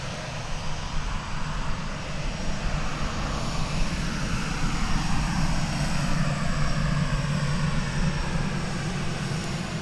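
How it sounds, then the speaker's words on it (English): A Delta Airbus A319 jet roars steadily at close range during its takeoff at Dallas Fort Worth airport, a dense broadband rumble with a low droning hum that holds loud and even throughout. "This is Delta Flight 1202. It's an Airbus A319 going to Salt Lake City."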